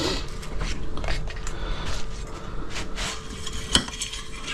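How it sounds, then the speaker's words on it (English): Metal pot set down on the folding pot stand of a Boundless Voyage alcohol spirit stove, a single sharp clink near the end amid soft handling rattles, close and fairly quiet. "And then of course you put your pot on the top."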